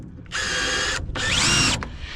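A power drill drives screws into wooden landscaping ties, two close whirring bursts with a rising pitch as the second screw tightens, no talking.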